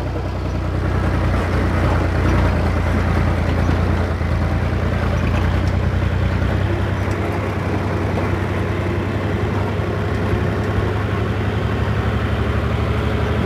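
A Fiat 480 tractor engine idles and runs steadily outdoors, a continuous low rumbling drone with wind-like noise on top, no speech heard.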